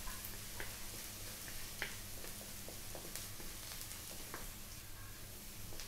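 Chopped garlic sizzling in hot oil in a pan while it browns for a Filipino stir-fried vegetable noodle dish, a steady close frying hiss with faint scattered ticks and no talk.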